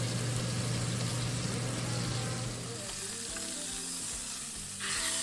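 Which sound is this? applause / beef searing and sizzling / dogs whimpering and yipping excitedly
beef searing and sizzling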